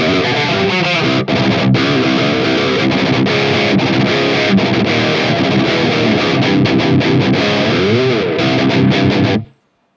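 Electric guitar played through a Lichtlaerm Audio Amber Spyglass EQ and boost pedal, a loud, dense, driven tone with continuous strummed chords and fast riffs for about nine seconds, then cutting off abruptly.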